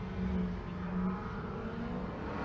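A 1971 Dodge E-Body Challenger with a Gen 3 Hemi runs at a drag strip, heard as a distant, steady engine drone with slight surges, fairly quiet and without talk.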